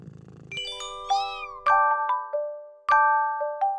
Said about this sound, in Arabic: القطة جميلة جدا